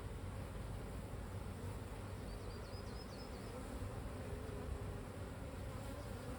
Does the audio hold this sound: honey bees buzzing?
yes